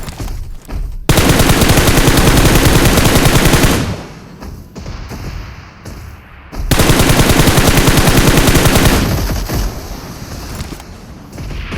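Sustained bursts of automatic gunfire from a shooting video game, two long loud rattling volleys separated by a quieter stretch, with no talking over them.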